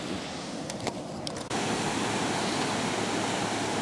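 Ocean waves at the shore give a steady broadband wash that swells to a louder, fuller roar partway through, with a few faint brief sounds early on.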